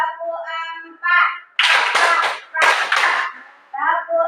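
Four crisp hand claps in a classroom clapping game, grouped in two quick pairs between stretches of a voice.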